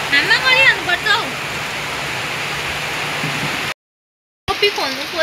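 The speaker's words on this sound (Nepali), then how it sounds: "पानी कत्रो पर्दैछ है यहाँ चाहिँ।" Heavy rain pours steadily as a dense, even hiss that continues for several seconds, cutting out briefly before returning, while voices, including a child's, are heard over it near the start and end.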